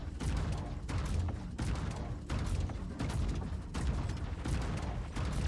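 Heavy ballistic cannons on the Polaris warship fire in a space combat game, a steady run of dense, booming volleys repeating roughly every second with no talk.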